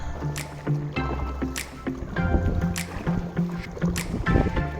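Kayak paddling on a calm river in the Misiones jungle at the Argentina–Brazil border, with rhythmic paddle strokes and splashes repeating about every second over a steady tonal background, close and moderately loud.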